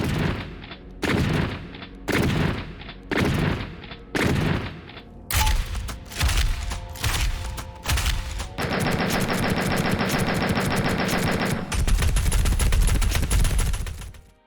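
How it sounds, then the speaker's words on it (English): Doom Eternal weapons with the Classic Weapons sound pack fire in loud, close bursts: first a series of evenly spaced heavy shots, then rapid sustained machine-gun-style fusillades that grow denser toward the end. "Owners of the deluxe edition of Doom Eternal also get access to the Classic Weapons sound pack, which changes the sound on all the weapons in the game."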